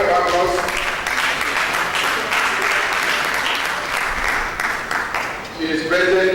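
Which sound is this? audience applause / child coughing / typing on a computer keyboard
audience applause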